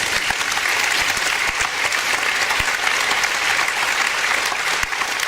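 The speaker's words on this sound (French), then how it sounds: "vous applaudissiez nos 2 techniciens" A theatre audience applauding the technicians, dense sustained clapping from a full house with steady even loudness throughout.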